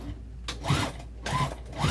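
Sewing machine stitching a vinyl tote bag in short bursts, with two or three quick mechanical runs of whirring separated by brief pauses.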